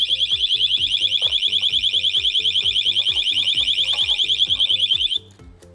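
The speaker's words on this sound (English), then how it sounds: "and then comes the alarm." Loud, steady pulsing electronic alarm wail from a motorcycle disc lock, sounding alone continuously for about five seconds and then cutting off abruptly.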